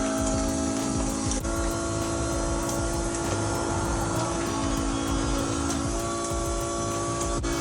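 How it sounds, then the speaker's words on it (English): A car's electric fuel pump whines steadily during dyno preparation as the fuel pressure is turned down from about 52 psi toward 39 psi, its constant tonal hum holding close and loud with faint clicks. "you can hear the note of the pump going up as I turn the fuel pressure down"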